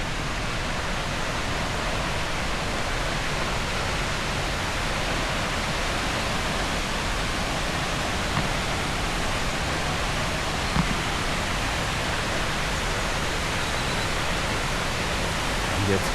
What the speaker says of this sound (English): look at that waterfall though.